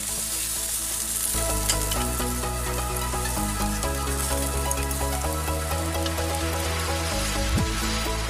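Pork shashlik skewers sizzle and crackle steadily over a grill, a dense close-up frying hiss with faint clinks and shifts as the meat is turned, and no voices.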